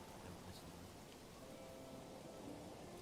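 Steady rain falls in Manor Lords, a soft, even hiss of drops at low volume with a faint distant rumble beneath, continuing unchanged throughout with no voices.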